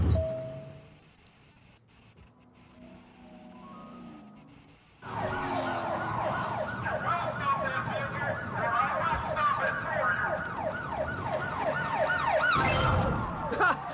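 After a quiet stretch, a loud wailing video game police car siren starts and keeps cycling steadily, with a brief extra burst near the end.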